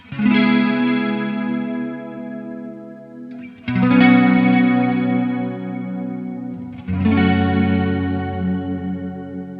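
Three sustained guitar chords through a Line 6 POD GO Roland JC-120 patch ring out one after another, each swelling with a wavering vibrato shimmer and a long, washy reverb tail.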